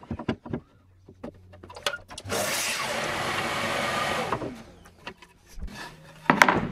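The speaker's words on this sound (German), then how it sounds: "Erstmal 30 und dann machen wir die anderen 40 cm, schneiden wir an der Kappsäge ab." A miter saw crosscuts a wooden board in a workshop. Scattered knocks and handling come first, then a loud, steady sawing whine for about two seconds as the blade goes through the wood, dying away into more clatter.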